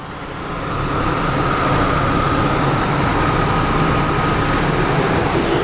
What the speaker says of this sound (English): this is a good running little motor